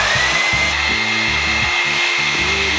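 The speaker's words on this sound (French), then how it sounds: "il est genre tiède et il n'y a pas trop de puissance dans le sèche-cheveux" A Mermade blow-dry brush hair dryer blows on its lowest cool setting, a constant close whir with a steady motor whine and a faint electrical buzz, heard alone.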